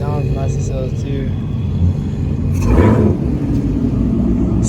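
A race Ferrari engine revs and roars past at a car meet, rising to a loud peak midway and then fading, with people talking and shouting over it.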